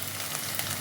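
Ground spices hit a sizzling masala in a pan for tangra fish curry, giving a brief, steady, close-up hiss.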